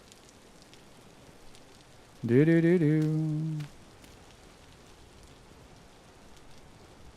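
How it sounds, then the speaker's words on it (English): Rain in the game Vintage Story falls with a soft, steady hiss throughout, while a voice briefly speaks over it partway through. "That's what's making the rain sound in here."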